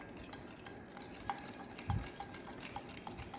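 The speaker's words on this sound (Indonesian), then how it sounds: "Kemudian kita aduk." A spoon stirring a salt and detergent solution in a container during a simple DNA extraction experiment, quiet scraping and occasional light clinks of utensil against the vessel, with no talking.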